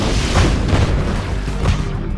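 Heavy booming cannon fire from a naval vessel in Red Alert 2 rolls out in close, loud repeated blasts over two seconds, deep thuds with a rumbling tail.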